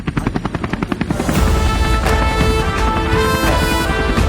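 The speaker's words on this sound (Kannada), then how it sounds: "ರೈತರ ಶಿರದ ಮೇಲೆ ಹೆಲಿಕಾಪ್ಟರ್ ಮೂಲಕ ಪುಷ್ಪವೃಷ್ಟಿ ಮಾಡುವುದರೊಂದಿಗೆ" A helicopter showering flowers over a large farmers' gathering passes overhead, starting with a rapid, pulsing rotor chop that swells into a loud, steady, roaring drone.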